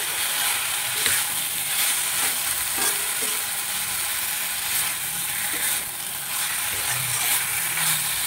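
Tomato and coriander leaves being stirred in a frying pan, a continuous soft sizzle with scattered scraping and clinking of the spatula, close and steady, no voices.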